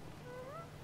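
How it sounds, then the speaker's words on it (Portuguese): A character's voice in the GTA V video game sounds like a small kitten meowing, a single short rising-and-falling mew over a steady background hum. "parece um gatinho miando"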